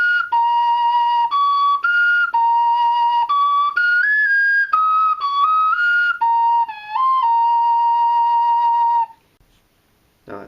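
A handmade 8-hole clay ocarina plays a simple song in pure, whistle-like stepping notes, loud and close, with no talking, ending in silence.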